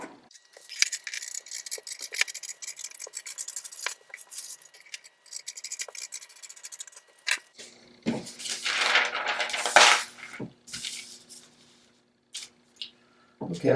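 Scissors snipping through paper pattern pieces for princess-seam drafting, a run of crisp cuts followed by rustling and handling of the paper, close by with brief pauses between bursts.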